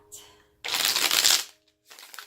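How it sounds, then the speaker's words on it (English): A deck of tarot cards is riffled in a crisp, close burst of shuffling, followed by a brief pause and a softer second shuffle. "One more shuffle, and that's going to complete that."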